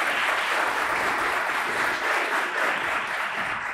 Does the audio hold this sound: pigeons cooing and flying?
no